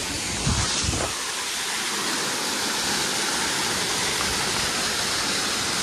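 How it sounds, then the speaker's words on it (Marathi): A waterfall near Ekvira Mauli temple outside Pune gives a loud, constant roar of rushing water, heard up close and steady throughout, with a brief faint voice near the start. "धबधबा आहे. इथं आवाज येतोय."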